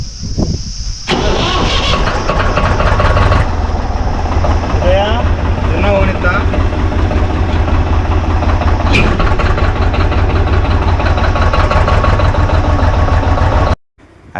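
A tractor engine runs loudly and steadily up close during loading of rice straw bundles on a farm, with a brief start-up at the beginning and voices faintly under the continuous mechanical drone.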